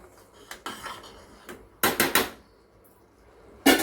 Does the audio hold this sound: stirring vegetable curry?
yes